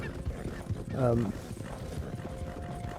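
Hooves of a horse clip-clop in Red Dead Redemption, a steady close trot with a brief whinny-like harmonic burst near one second, all under a voice talking.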